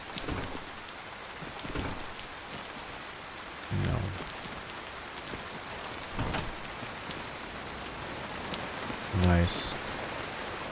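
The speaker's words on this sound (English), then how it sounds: "It's a heavy storm now." Heavy rain pours steadily in DayZ, a dense hiss of drops drumming on surfaces throughout, with a few short quiet words spoken and scattered brief thumps and clicks.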